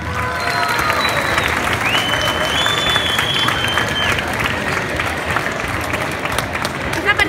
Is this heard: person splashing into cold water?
no